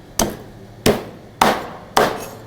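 Four sharp, evenly spaced chops of a cleaver cutting through a carp on a board, each a loud thud with a quick decay, no talking.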